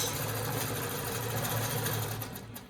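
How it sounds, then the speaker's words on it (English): A Pro-Stitcher longarm quilting machine stitches around a nine-patch quilt block, running with a fast, steady mechanical whir and rapid needle rhythm close by, then easing slightly at the end, with no talking. "So I'm going to hit play. And notice that it did my locking stitch."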